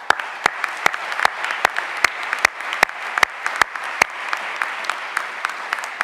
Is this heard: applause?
yes